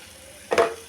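Chicken frying in a pan as chili powder goes in, a brief sharp sizzle flaring up halfway through a quiet, low background hiss.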